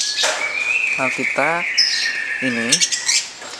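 Lovebirds chirping nearby, a sustained high whistle with sharp tweets and squawks, with a few brief voice-like calls mixed in.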